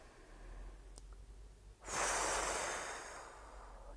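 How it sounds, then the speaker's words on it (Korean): A single deep inhale taken during a singing breathing exercise, preceded by a quiet pause, then a loud, close, airy breath swelling up and slowly easing off over about two seconds. "최대한 선생님들이 많이 쉴 수 있는 만큼 숨 쉬고"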